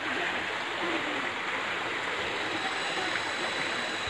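Steady rushing creek water flowing continuously, close and fairly loud, with a broad wash of noise and no voices.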